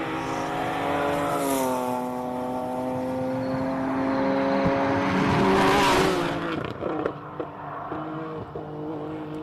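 Classic race cars at the Simola hillclimb, engines howling loud and near through the bends with sustained revving, rising and falling pitch as the throttle is feathered, fading with a few crackles and pops toward the end.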